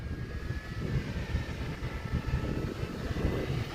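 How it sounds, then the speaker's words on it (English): Several trucks revving their engines at a keydown car-audio event in West Palm Beach, a loud continuous low rumble with steady roaring swells, heard up close with no talk. "They'll rev their trucks."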